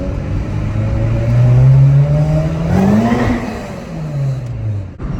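A supercharged 1994 Acura Integra GSR pulls away, its engine revving up through a gear with a rising whine and a shift, then climbing again, close and loud.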